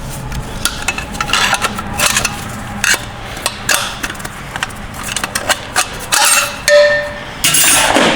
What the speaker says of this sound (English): Pop the snap ring out.